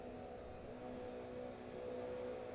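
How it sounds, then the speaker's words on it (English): Toyota GR86 race cars idle and rev together on a sim racing grid awaiting a standing start, a steady, faint, droning engine hum that rises slightly without any break. "Revs are rising."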